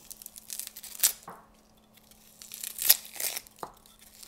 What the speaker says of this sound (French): Je vais éplucher mon oignon.